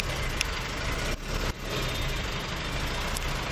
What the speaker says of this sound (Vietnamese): Các bạn nghe thử cái tiếng động cơ.